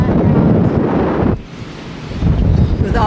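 Strong wind buffeting a microphone outdoors on a farm near a chicken coop, a loud continuous roar that dips briefly in the middle before surging back.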